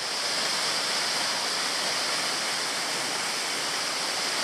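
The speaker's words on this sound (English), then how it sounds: "it is a seriously impressive waterfall. Probably 30 metres high at least. Good flow of water" McGowans Falls in Tasmania, a tall waterfall around 30 metres high with a good flow, pours as a steady broadband roar, even and continuous at moderate distance with no voices.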